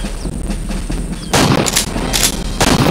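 Gunfire from the Primeval Hunt arcade video game, a few loud blasting shots in quick succession over a continuous game soundtrack.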